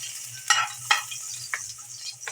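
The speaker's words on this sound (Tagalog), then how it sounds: "Kumulo na ating mantika." Garlic and onion drop into hot cooking oil, giving several sharp bursts of close sizzling with quieter crackling frying between them and a low steady hum underneath.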